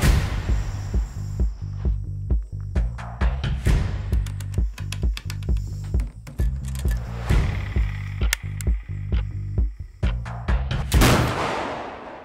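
A series of sharp rifle shots from a flintlock and a .308 rifle ring out one after another, each loud crack followed by a brief echo, with a steady low hum underneath throughout.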